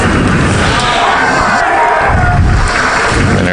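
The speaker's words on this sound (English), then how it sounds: "He's getting a big round of applause" A crowd in the stands at a high school football game roars and cheers continuously as a senior player enters, loud and dense throughout.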